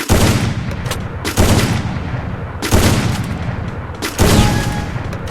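Gunfire from the Free Fire video game comes in loud bursts of rapid shots, three or four clustered volleys with short gaps, close and sharp.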